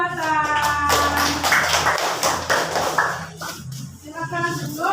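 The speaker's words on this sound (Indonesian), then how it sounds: "Silakan tepuk tangan untuk kelompok representatif buatan" Students in a classroom give a presenting group a round of clapping, a cluster of sharp, close claps over a few seconds, with voices speaking before and after.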